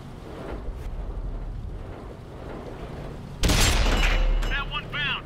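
A tank cannon in a video game fires a single loud, booming shot around the midpoint, followed by a rumbling tail. Faint game noise and speech-like sounds run through the quieter stretch before the blast.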